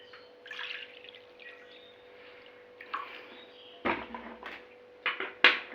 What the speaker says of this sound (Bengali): জলটা বানানোর জন্য এখানে আমি জল দিলাম পরিমাণ মতো